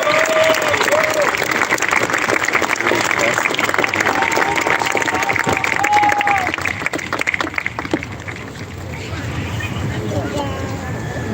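An audience at a high school graduation ceremony applauds to welcome the commencement speaker, with loud dense sustained clapping and crowd noise that eases off toward the end while a voice emerges.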